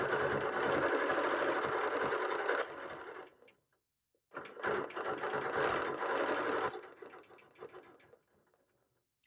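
Ruler quilting on a quilt panel with a sewing machine: a loud, close, rapid stitching hum runs for a couple of seconds, pauses, then resumes for another long steady burst before trailing off.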